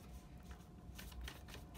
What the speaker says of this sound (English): I need to finish shuffling.